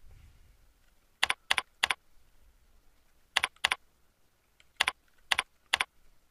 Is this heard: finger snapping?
no